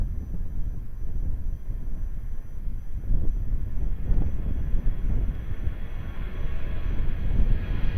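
An airplane at Lisbon Airport gives off a continuous low engine rumble that swells slightly midway and holds at moderate loudness, with no speech.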